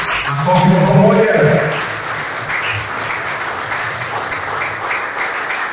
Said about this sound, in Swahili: Kwa pamoja, makofi wote zamani. Makofi kwa pamoja.